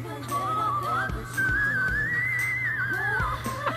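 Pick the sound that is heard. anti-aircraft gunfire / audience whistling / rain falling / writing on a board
audience whistling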